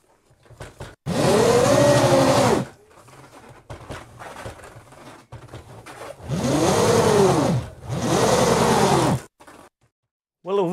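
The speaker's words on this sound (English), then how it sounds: "give the motor a bit of a wind up and see how much torque there" An electric motor on a large LEGO go-kart on a slippery floor winds up in loud whirring bursts that rise and fall in pitch, three long runs separated by quieter pauses.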